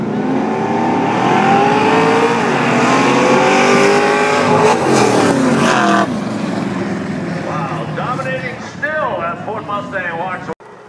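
Drag race cars, including an old Chevy, roar loud and close as engines rev and accelerate hard, with a falling pass-by sweep and faint tire squeal under a commentator's voice.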